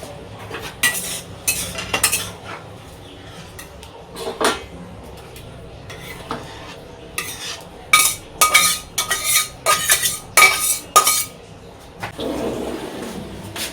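Jute leaf curry stirred in a metal pot, irregular clanks and scrapes of a ladle against the rim arriving in quick clusters between quieter pauses, fairly close and loud.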